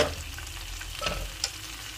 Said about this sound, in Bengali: এই সাইড দিয়ে এখন এই পেঁয়াজগুলো দিয়ে দিব।